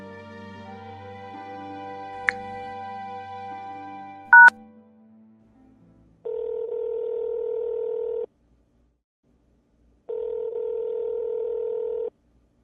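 A few dial tones and keypad beeps, then two long unanswered ringback tones separated by a pause of silence, clear and close on the line.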